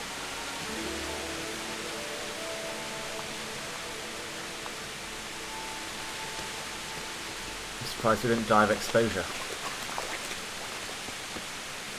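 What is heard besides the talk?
rain falling in video game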